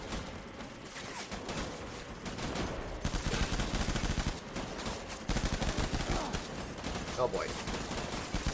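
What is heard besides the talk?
gunfire in video game Death Stranding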